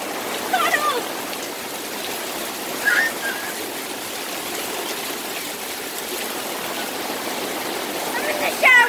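Heavy August rainstorm pouring into puddles, a steady rushing wash of water close by with occasional splashes and brief voices shouting over it.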